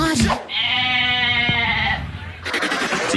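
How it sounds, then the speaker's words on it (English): A goat bleating in a long, loud, wavering cry, framed by brief bursts of talk before and after. "yes, goat voice, let's go"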